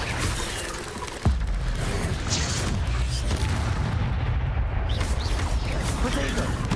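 An Incendio fire spell goes off in Hogwarts Legacy as a sudden loud boom and burst, followed by sustained roaring, crackling combat noise with a voice talking over it.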